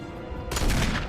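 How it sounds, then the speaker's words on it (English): Gunfire in the Resident Evil video game starts suddenly halfway through, a loud rapid burst of shots that carries on to the end over a low rumbling background. "Let's see if I can shoot it quickly enough."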